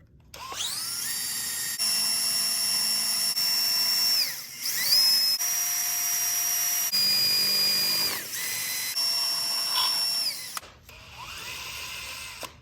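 A power drill spins a mesquite rod through holes in scrap metal to form a round dowel, a loud whining motor that holds steady pitch in several long runs, with brief dips and a rough grinding tail.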